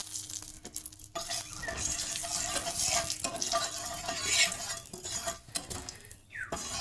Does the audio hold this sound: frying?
yes